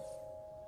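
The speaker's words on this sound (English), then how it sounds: "Soon, all you can hear is the rushing of blood in your head and a muffled chime ringing somewhere far away." A muffled, distant chime from the game Pillars of Eternity 2 rings as a single sustained tone that hangs steadily and softly for under a second.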